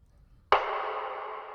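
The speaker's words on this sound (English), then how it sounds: "Here are the snares I did for the chorus." A single layered snare hit for a pop ballad chorus: one sharp crack that blooms into a long, washy reverb tail fading over about a second, heard alone.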